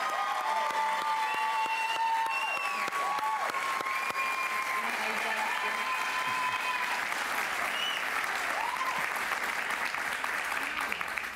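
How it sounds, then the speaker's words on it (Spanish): Studio audience applause in a television talk show set, sustained even clapping from the crowd lasting several seconds, with faint cheers and voices mixed in underneath. "Un aplauso para ella, por favor."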